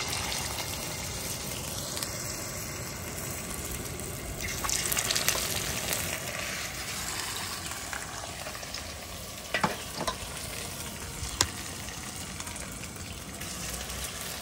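Marinated fish pieces sizzle and crackle in hot mustard oil, a steady loud frying hiss with occasional sharper pops as pieces are spooned in one by one.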